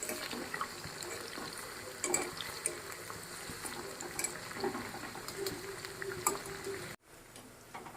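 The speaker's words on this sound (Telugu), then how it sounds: "ఇప్పుడు మనం ఒక మంచి కలర్ వచ్చే వరకు నూనెలో బాగా ఫ్రై చేసుకోవాలి" Chicken pakodi deep-frying in hot oil, a steady dense crackle and bubble running throughout with a few louder pops, then cutting off sharply for a moment before resuming more quietly.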